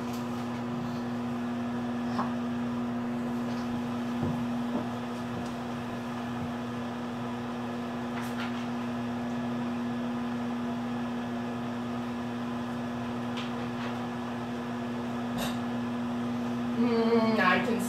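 A microwave oven hums steadily while cooking stuffed mushrooms with onions and pepper, a constant close drone with faint clicks throughout and a brief rattle near the end.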